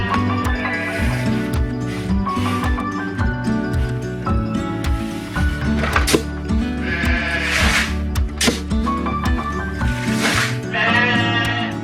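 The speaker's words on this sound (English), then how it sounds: "we might as well feed the sheep" Sheep on a farm bleat again and again, close and loud, their wavering cries overlapping through a continuous stretch with no talking.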